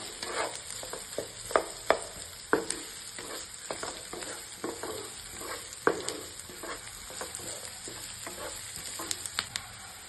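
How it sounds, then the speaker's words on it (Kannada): Onions and cumin seeds fry in hot oil in a pan for an egg masala gravy, giving a steady close sizzle broken by repeated stirring scrapes and clicks, with no talking. "ಆನಿಯನ್ ಹಾಕೊಂಡಿದ್ದೀನಿ, ಚೆನ್ನಾಗಿ ಫ್ರೈ ಮಾಡ್ಕೋಬೇಕು"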